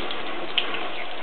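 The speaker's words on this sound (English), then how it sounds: "And I'll rinse the tea out of it." Fabric soaked in tea is rinsed under a running tap, a steady, close rush of water that continues without a break.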